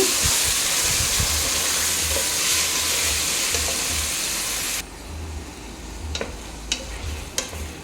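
Marinated chicken hits hot fried onions in a pan for Kolkata-style chicken biryani, a loud continuous sizzle and hiss for about five seconds that then drops to a quieter fry with a few stirring clinks.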